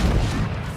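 Secondary guns of the battleship Daisen fire in a naval combat video game, a short, loud, dense burst of booming blasts filling under a second, with no talk.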